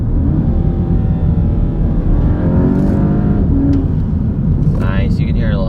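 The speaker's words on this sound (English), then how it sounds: "you can hear a lot more turbo now" Volkswagen GTI with a Unitronic intake, air duct and turbo inlet, warmed up and revving, giving a close, loud engine roar with a rising turbo spool and intake suction, plus a brief airy hiss near the end.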